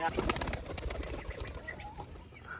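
Pigeons coo softly nearby, with a brief flutter of wings and faint voices in the background.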